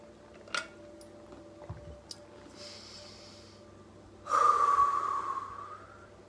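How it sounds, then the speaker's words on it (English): Deep breathing during a guided meditation, in through the nose and out through the mouth: a brief sniff early on, faint breaths, then a long, loud, breathy exhale close to the microphone, with no talk. "start breathing in through your nose and out through your mouth"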